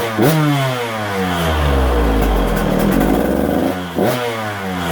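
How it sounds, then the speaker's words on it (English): A KTM 150SX two-stroke dirt bike engine on a stand idles loudly and close by, then is blipped, revving up and settling back twice with a rapid, raspy tone and no one talking. "Just let it idle a little bit and blip it."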